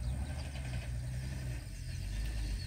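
Low, heavy engine rumble from a truck arriving with a load of earth fill for a plot, steady and fairly close, a continuous throbbing drone with no voices over it.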